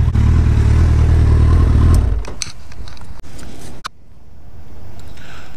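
A Suzuki Hayabusa motorcycle engine accelerates hard in a sixth-gear roll-on, giving a loud, deep droning roar for about two seconds before dropping to a quieter rush of wind and road noise.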